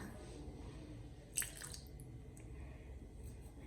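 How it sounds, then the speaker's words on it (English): Water drips while a tablespoon of water is added to loosen a cooking mixture: one soft, close drip-splash stands out midway over a faint, steady kitchen background. "Oh, I'm scared of dripping the water."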